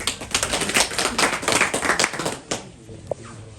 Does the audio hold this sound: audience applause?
yes